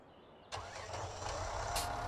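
A New Holland T7 tractor engine cranks and fires in Farming Simulator 17, catching abruptly and settling into a steady mid-pitched idle with a brief hiss near the end, heard alone and close.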